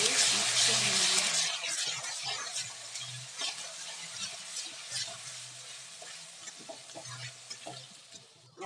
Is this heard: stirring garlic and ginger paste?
yes